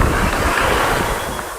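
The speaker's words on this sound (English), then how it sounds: "I can hear the wind." Steady wind blowing outdoors in the Naples area of Long Beach, California, a broad continuous rush with low rumbling gusts, fairly loud and without voices.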